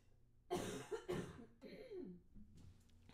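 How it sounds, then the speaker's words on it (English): A few harsh coughs close to the microphone, two strong bursts followed by weaker, throaty ones trailing off, quiet between them. "I'm so sorry I have to cough again."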